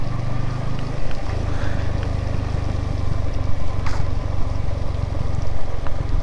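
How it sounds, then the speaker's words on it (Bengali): Motorcycle coasting downhill on a mountain road under engine braking in second gear with the throttle closed; a steady, close low engine drone runs throughout with some wind rush. "আমি এখন নামতেছি সম্পূর্ণ ইঞ্জিনের উপরে, অর্থাৎ 2 নম্বর গিয়ার দিয়ে থ্রোটল ছেড়ে দিছি"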